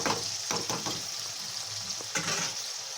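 Diced potatoes fry in a pan for soybean keema, giving a steady, close hiss of oil with faint crackles and a few stirring scrapes throughout.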